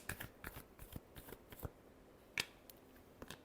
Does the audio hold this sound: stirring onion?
no